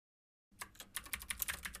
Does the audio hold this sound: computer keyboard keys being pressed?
yes